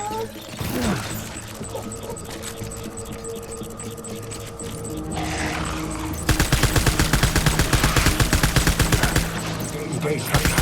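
Gunfire in the video game Death Stranding, a steady hum under scattered shots that breaks into a loud, rapid automatic burst of evenly spaced reports.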